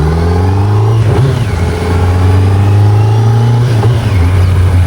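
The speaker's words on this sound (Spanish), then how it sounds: "entrar con una glorieta con una moto de estas, vamos en tercera, puntita de gas, la dejamos caer" A 2026 Kawasaki Z900 naked motorcycle accelerates in third gear on a road, its engine very loud and close, climbing in pitch through two gear-like surges with a brief dip between.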